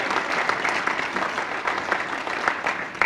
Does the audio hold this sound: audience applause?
yes